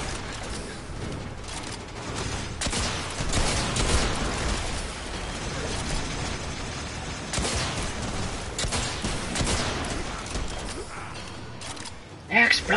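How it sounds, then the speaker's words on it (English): Warframe game explosions and bursts of gunfire-like pops rumble in a busy, continuous mix, with a sharper pop near the end. "Explosions!"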